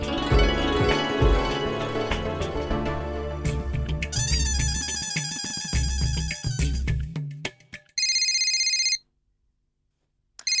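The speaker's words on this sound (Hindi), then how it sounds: "अय्यर का फोन" A telephone rings with a repeating electronic tone, loud and close, over background music, then stops, leaving a brief silence.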